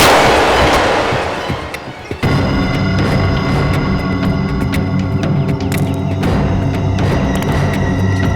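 A loud gunshot bursts out in a tense CID TV show scene, followed by sustained dramatic background score with sharp percussive hits and a steady low rumble.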